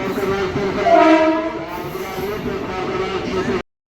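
A passenger train rumbles in close by at a station with a sustained horn blast rising over the rolling noise before it cuts off abruptly.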